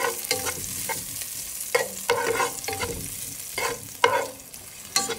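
Garlic and ginger sautéing in a pan, with a steady sizzle broken up by repeated scraping stir strokes at an uneven rhythm, close and clear with no talking.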